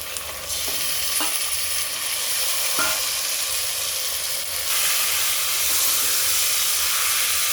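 Half a kilo of mutton added to a hot pan with mint, giving a strong steady hiss and sizzle with a few spoon knocks early on, and the frying swelling louder partway through.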